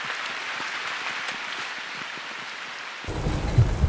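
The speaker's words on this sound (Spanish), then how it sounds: "Otra vez empezó a llover fuerte." Heavy rain falling outdoors in autumn in Germany, a dense steady patter that swells into a louder, rougher downpour near the end.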